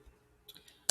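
A computer mouse clicks a few times while someone works on an essay draft, with faint soft ticks near the middle and a single sharper, louder click at the very end, close and otherwise quiet.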